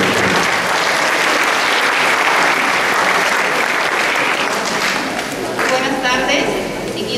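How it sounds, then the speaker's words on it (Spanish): An audience at a congress gives a speaker a welcoming round of applause. The clapping is loud and continuous, then thins slightly toward the end. "El aplauso de ustedes para recibir su ponencia."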